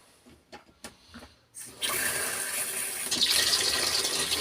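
Water gushes from a NEWARC bath mixer tap being tested after repair, starting abruptly after a few handling clicks and running as a steady, close hiss that grows slightly stronger near the end.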